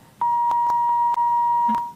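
A dropped phone call ends in a steady high-pitched electronic tone broken by several short clicks, sounding clear and alone for about two seconds.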